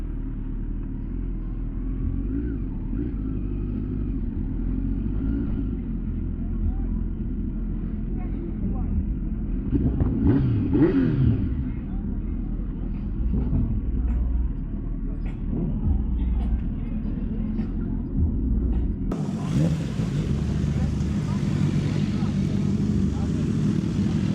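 Motorcycles idle and rumble at a moto meetup at Coleman PowerSports in Virginia, a steady low engine drone throughout with a brief revving swell midway and a brighter rise near the end.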